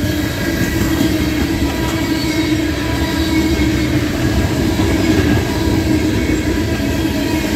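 A Norfolk Southern freight train of tank cars rolls steadily past at Karns, Pennsylvania, with a loud, continuous rumble and rail noise throughout, no pauses and no voices.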